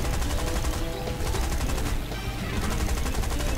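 Rapid bursts of automatic gunfire and cannon fire from War Thunder combat rattle on loudly and densely throughout, with little pause between the rounds.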